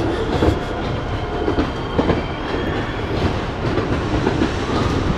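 The Pleasure Beach Express, a small amusement park train at Blackpool Pleasure Beach, rolls along its track with a continuous loud rumble and clattering wheels, no voices.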